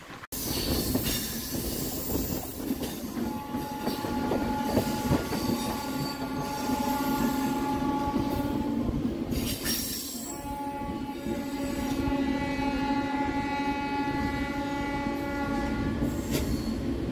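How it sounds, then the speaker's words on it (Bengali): The 18029 Lokmanya Tilak Terminus–Shalimar Kurla Express roars past on an Indian line near Shyamchak station, with loud, steady rumbling, squealing wheels and sustained horn blasts throughout. "এটা 18029 মুম্বাই লোকমান্য তিলক টার্মিনাস শালিমার কুর্লা এক্সপ্রেস"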